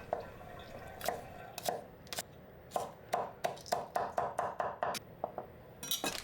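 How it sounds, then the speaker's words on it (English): A knife chops green onions on a cutting board, a string of sharp, close taps that speed into a quick steady rhythm in the middle, with a few scattered knocks and a light clatter at the end. "Cut green onions into small pieces."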